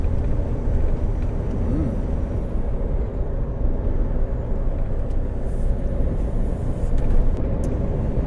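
A truck drives along the road, a steady loud low rumble of engine and tyres from inside the cab, with a faint high whine and a few light clicks, no talking.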